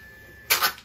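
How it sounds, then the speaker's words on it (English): A label printer gives a quick burst of mechanical whirring, two close pulses lasting under half a second after a quiet room hum. "That's my label printer you hear there."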